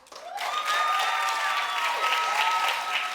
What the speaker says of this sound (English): you clap if you think she ought to go with him